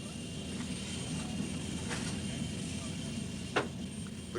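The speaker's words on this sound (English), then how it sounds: "Supersonic strike aircraft stationed in England, for instance, are fully prepared for that dismal task." Steady broadband roar of a supersonic strike aircraft flying, a continuous jet rumble with a faint brief thump near the end, no voices.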